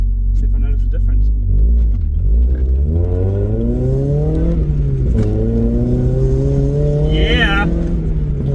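A daily-driven car engine, ignition timing just advanced, revs up through the gears with a rising tone that drops at each shift, loud and close from inside the cabin, with a brief voice near the end.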